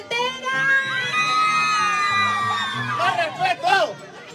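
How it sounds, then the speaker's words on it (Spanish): Loud crowd yelling and whooping from single girls in the audience at a live music show in Santiago, sustained shrieks rising in bursts toward the end over music. "El grito bien fuerte de las chicas solteras."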